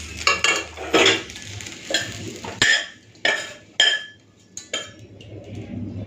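Fried soybean chunks being stirred in a pan and scooped out, heard as a series of scraping, clinking spatula strokes against metal over a faint sizzle, close up with no talk.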